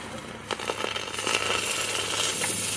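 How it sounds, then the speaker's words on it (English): Hot investment flask from a silver spike casting plunged into water, a loud rushing sizzle of boiling and steam with crackling bursts, building and holding close by. "We are about to quench the investment to find out whether it was a successful cast. Now for some bubbly action."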